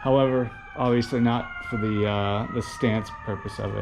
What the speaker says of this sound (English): sorry if you can hear the ambulance fire truck in the background